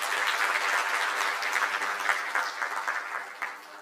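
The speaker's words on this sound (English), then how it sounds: "Another round of applause for our panelists." Audience at a mental wellness and counselling conference applauding panelists, a steady wash of clapping at moderate level that holds throughout and thins slightly toward the end.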